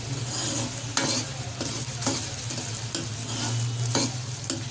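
Liver for masala kaleji sizzles steadily in a handi while a spoon scrapes and stirs it about once a second, close up with no voices.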